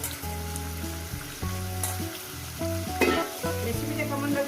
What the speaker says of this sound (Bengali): এইবার দিয়ে দেবো চিকেনটা চিকেনটাকে দিয়ে সুন্দর করে আমি পেঁয়াজের সঙ্গে ভেজে নেবো